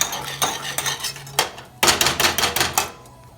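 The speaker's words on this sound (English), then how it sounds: "Stir it a little bit, you know." Eggs being stirred in a pan, a loud close run of quick metallic scrapes and clacks from the utensil, coming in irregular bursts over a faint background hum.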